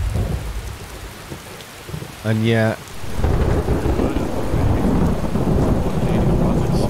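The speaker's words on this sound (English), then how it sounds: "some serious thunder and lightning going on." Thunder and steady heavy rain in the video game Skyrim, with a continuous downpour and a deep rumble building near the middle, briefly interrupted by a short tonal game sound, and a voice speaking at the start.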